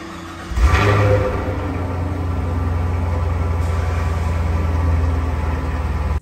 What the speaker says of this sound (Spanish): Ahora vamos a escuchar cómo suena ese encendido en frío